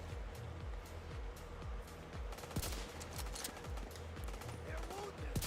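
A minigun in The Division 2 fires continuous rapid bursts, dense rattling gunfire with repeated spin-up sweeps, while a voice talks over it.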